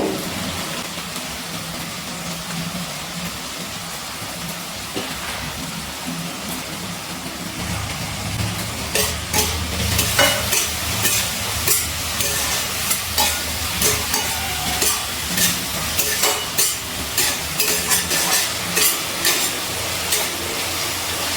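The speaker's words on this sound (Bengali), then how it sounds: "আমি সব কিছু একটু তেলে নাড়াচাড়া করে ভাজা করে নিচ্ছি" Chicken masala with soaked kasuri methi is stirred and fried in oil over a medium gas flame, giving a continuous sizzle with rhythmic scraping strokes of the spoon that grow louder and more regular partway through.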